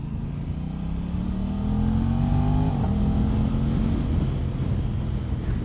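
Sport motorcycle engine on factory exhaust and airbox, a steady throaty drone that rises in pitch as it revs, close and continuous with no talking.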